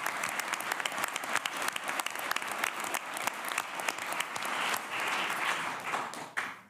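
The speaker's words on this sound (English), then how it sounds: "Can we just give them one more big round of applause?" An audience at a school district board meeting gives a big round of applause, dense sustained clapping from a crowd that holds steady for several seconds before tapering off.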